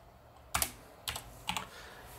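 Keys tapped on a computer keyboard in three short, crisp bursts spaced about half a second apart, close and clear over a quiet room.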